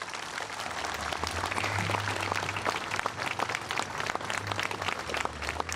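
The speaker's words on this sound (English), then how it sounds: "they all deserve a super round of applause from everybody" Sustained applause from a crowd at an 80th anniversary D-Day commemoration in Canada honoring veterans, dense steady clapping throughout with a low hum underneath.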